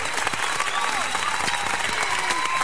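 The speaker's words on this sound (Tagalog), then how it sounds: "Bigyan naman natin ng palakpak si ka-partner" Audience applause at a live stage show in the Philippines greets a co-host just arrived from the airport, a steady dense clatter of many hands sustained throughout with a faint crowd murmur.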